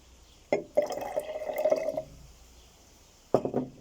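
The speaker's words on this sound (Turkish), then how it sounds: "Maden suyuna lahana suyu dökeceğim." Red cabbage juice poured into mineral water for an acid-base experiment, heard as two short bursts of trickling, dripping liquid separated by a pause.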